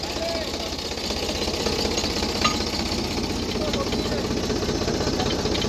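A tractor engine runs steadily at a well-digging site beside a house, with a mesh net tied to the tractor. Its dense, rumbling drone is loud and continuous, pulsing low throughout with no break.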